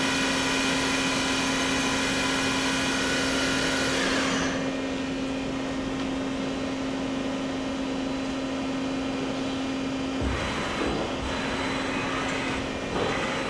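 A Daewoo Puma 200LMSA CNC turning center's Z-axis moving: a steady mechanical whir with a constant hum runs alone, the high hiss dropping away partway through, then faint clunks near the end.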